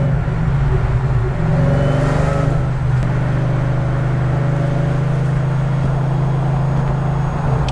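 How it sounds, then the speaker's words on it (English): Supercharged, tuned car running on 93 octane pulls steadily under acceleration, its blower whine and engine drone loud and close, with a rising tone early on and no speech. "You can hear the blower."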